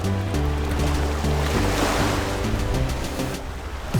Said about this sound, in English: The ocean water.